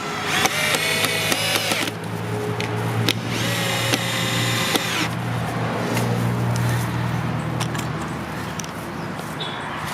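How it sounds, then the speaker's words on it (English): Power drill driving screws into construction lumber while assembling an outdoor grilling side table, heard as two sustained whirring bursts close by over steady background hum, with no talk. "So align the top, get the screws in."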